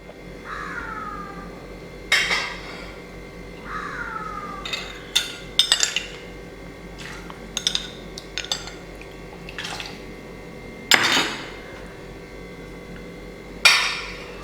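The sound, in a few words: stirring curry mixture of onion, spices, coconut milk, vinegar in pot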